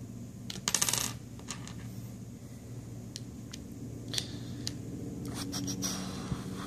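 Small Phillips head screws being removed from an LG G3 phone during disassembly, light metallic clicks and tinkling taps, one cluster near the start and scattered ticks later, close and quiet.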